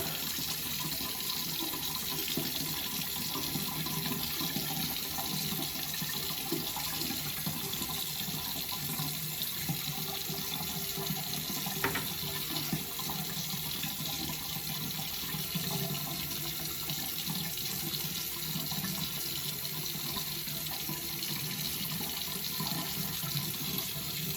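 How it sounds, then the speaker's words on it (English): Hot water runs steadily from a bathroom sink tap, a continuous close hiss of flowing water filling the basin, with no talking over it. "gonna run that water a little hotter"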